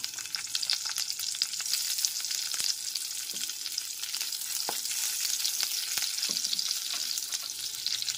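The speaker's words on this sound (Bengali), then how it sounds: "আলুটা ভেজে নেওয়ার পর ওই একই তেলের মধ্যে কেটে রাখা পেঁয়াজগুলো দিয়ে দিলাম" Chopped onions fry in hot oil in a pan, the same oil used for potatoes beforehand, making a dense, steady sizzle with occasional soft clicks of stirring and no voices.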